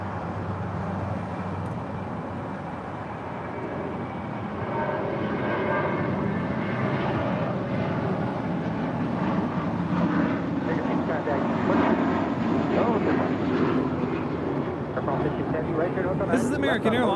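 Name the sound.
American Airlines A321 jet departing at LAX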